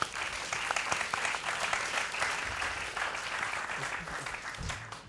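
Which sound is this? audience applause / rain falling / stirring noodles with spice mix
audience applause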